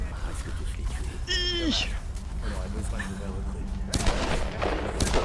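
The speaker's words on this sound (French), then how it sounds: "Et ça continue de tirer et ils se font plaisir" Gunfire in the video game Tomb Raider (2014) comes as a few sharp, loud bursts, including a cluster near the end, mixed with other game sounds and voices.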